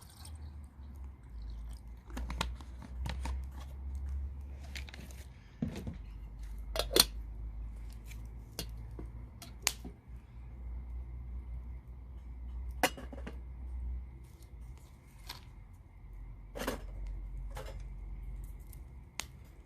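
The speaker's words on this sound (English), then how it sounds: "I'm going to get the kettle on." Camping cookware clinks and clatters as a kettle is set up on a backyard camp stove, with sharp metallic taps, scrapes and knocks scattered irregularly over a quiet, low background.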